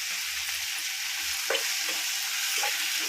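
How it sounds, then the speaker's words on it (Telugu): Brinjal pieces frying in a pan with softened tomatoes and onions, a loud continuous sizzle with a couple of brief stirring scrapes partway through, heard alone without talk. "వంకాయ ముక్కలు కూడా వేస్తున్నాను."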